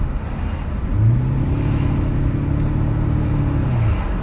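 A Mercedes S600 W140 with a repaired throttle system, heard from inside while driving, its engine holding a steady hum and drone that swells briefly and then eases off as the car slows.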